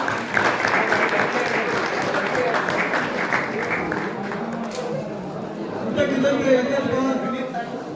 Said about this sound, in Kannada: ವೇದಿಕೆಗೆ ಜೋರಾಗಿ ಚಪ್ಪಾಳೆ